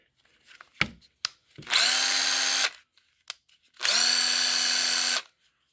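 A Makita DT01 impact driver runs in two loud bursts of about a second each, with a steady high whine, after a couple of sharp clicks from handling.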